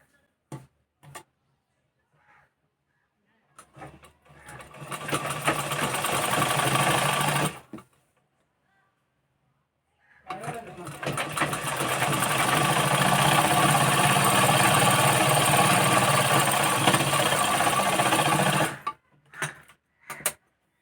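A sewing machine runs a half-inch seam on a blouse in two long bursts of rapid, close stitching, separated by a pause, with brief clicks and handling sounds between runs.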